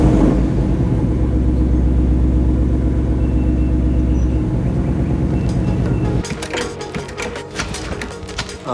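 A Ford Mustang, raised on jack stands, starts and runs, giving a loud, steady low exhaust rumble that shifts to a rougher, choppier idle in the last few seconds.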